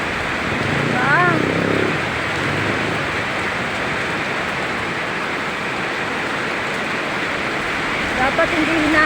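Rain-swollen creek overflowing after a sudden downpour, a dense, steady rush of water and rain noise filling the whole scene, with brief voices at the start and end.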